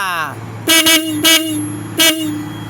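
A Yamaha Mio scooter's horn with upgraded full-wave wiring sounds three times close up, a short double beep then two single toots, after a brief voice at the start.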